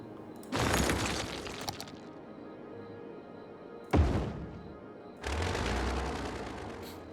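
A structure being demolished in the city-building game Cities: Skylines: three loud bursts of crashing, rumbling collapse noise, each a second or two long, separated by quieter game ambience.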